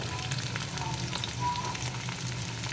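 Green beans frying in an oiled pan, giving a steady, close sizzle with soft crackle throughout and no voices.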